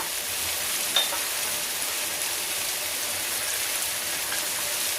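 Pork sizzles steadily in a pan with bagoong shrimp paste, a dense, even crackle of frying held close and constant, with one small clink near the start and no talk.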